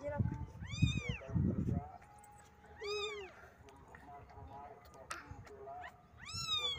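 Small kittens meow repeatedly while being fed milk, a few high rising cries spaced across the moment, close and fairly quiet, with low handling noise and voices in the background.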